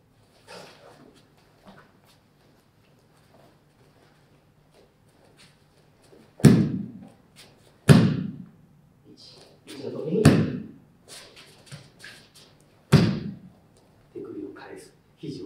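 Judo ippon-seoi-nage shoulder throws land on the mat as four heavy, booming thuds spread apart, each fading quickly, while an instructor talks quietly between them.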